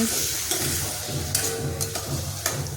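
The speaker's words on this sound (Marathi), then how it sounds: "मठालाही चांगल्या प्रकारे तेलामध्ये परतून घ्यायचं आहे" Matki sprouts sauté in hot oil with spices, giving a steady sizzling hiss broken by several sharp scrapes of a spoon stirring against the pan.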